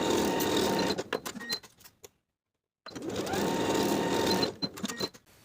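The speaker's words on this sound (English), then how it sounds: "Sew with a 3/8 inch seam allowance and press the seams open." A sewing machine runs in two quick bursts stitching the side seams of a fabric band, a dense rapid whir that stops briefly in the middle before starting again.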